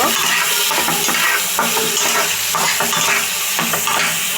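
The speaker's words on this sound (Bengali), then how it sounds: "এটাকে এখন নেড়ে চেড়ে একটু ভাজা ভাজা করে নিব।" Sugar frying in hot oil for a Chinese-style vegetable dish is stirred in a pan, a close, busy sizzle with repeated scraping and clicking strokes throughout and no speech.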